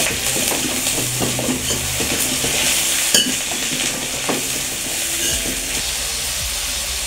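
Onion and garlic fry in a pan with a steady, close sizzle while a utensil stirs and scrapes through them in repeated clatters.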